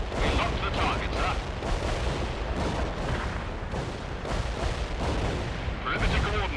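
An artillery barrage rages in the World in Conflict video game, a continuous, dense roar of overlapping blasts and rumbling impacts at high volume, with no pauses between explosions.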